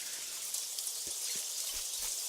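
Steady hiss of rain in the video game Craft The World, with a few soft low thuds of drops landing, constant and fairly quiet throughout.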